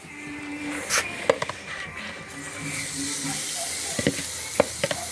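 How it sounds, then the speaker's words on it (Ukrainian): Onions laid on a hot barbecue grill (mangal) for Turkish-style baked potatoes with onions hiss and sizzle steadily at close range, with a few sharper clicks and taps as pieces are placed. "викладуємо нашу цибульку на мангал"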